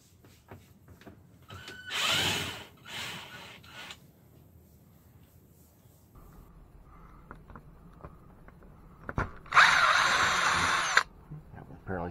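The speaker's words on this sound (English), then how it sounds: "we're going to take these screws out" A power drill backs screws out of a Coleman Mach RV air conditioner, giving short close whirring bursts separated by quiet handling noises, with a louder sustained high whine near the end.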